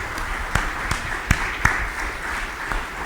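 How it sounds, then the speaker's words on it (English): A church congregation at a Sunday service and annual meeting claps briefly, a fairly quiet, sparse patter with several sharper individual claps standing out. "So I want you to give yourselves a round of applause."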